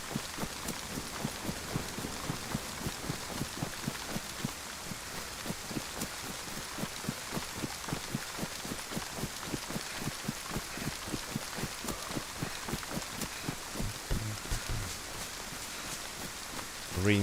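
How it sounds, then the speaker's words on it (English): Rain falls in the video game DayZ on the Livonia map. It is a steady hiss of rainfall with a dense patter of drops throughout, even and continuous with no talk. "Rain started"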